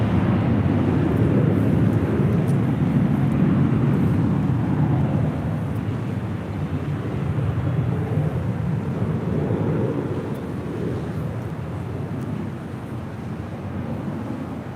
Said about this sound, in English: this is Delta Airlines Flight 802 departing to Detroit on an A321